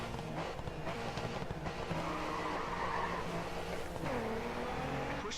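Race car tires squealing and skidding in the racing game GRID 2, a loud continuous screech with a high engine drone and shifting pitch throughout.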